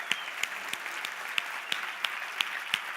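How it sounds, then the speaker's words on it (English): A conference audience gives a speaker a round of applause: a dense, steady clatter of many hands with sharper claps standing out at a regular, almost rhythmic pace, and no talking. "let's give this guy a big round of applause."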